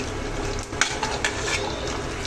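Two large onions fry over medium heat for a drumstick leaf stir-fry, a dense close sizzle broken by a few quick scraping stirs in the pan.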